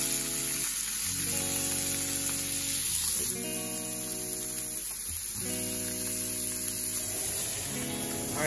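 Butter sizzling steadily in a hot frying pan while cooking a quick date-night meal, a loud, continuous hiss close by with no voices.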